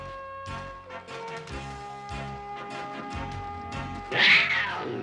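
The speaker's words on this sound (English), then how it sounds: "Uh-oh, saber cat." A cartoon saber cat snarls and yowls in a series of harmonic, cat-like growling cries that build into a louder, harsher snarl near the end.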